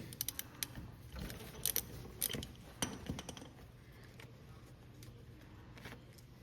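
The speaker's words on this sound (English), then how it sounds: "now we'll pop off this castle nut. 11/16." Removing an 11/16 castle nut from the tie rod end of a Kubota BX25D tractor with a wrench: a few quiet metallic clicks and ratchet-like clinks, with scattered clanks over a faint background hum.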